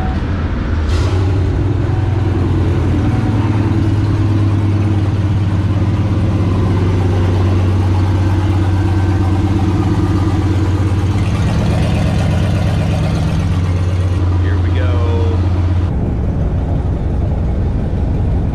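A turbocharged 5.3L GMC Yukon engine idles steadily just after being started, a loud close low rumble that holds even before cutting off near the end, with no voices over it.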